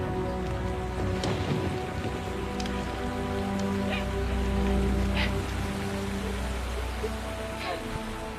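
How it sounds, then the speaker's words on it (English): Steady rain pours down, pattering continuously on surfaces with scattered nearby drips and a faint low rumble beneath. "while the downpour douses the fuel-soaked plane, it quickly becomes a deluge"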